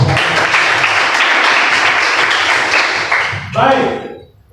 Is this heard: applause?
yes